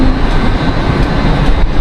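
A train rolls past on nearby tracks in Austin, Texas, a loud, continuous broadband rumble filling the whole moment with no voices.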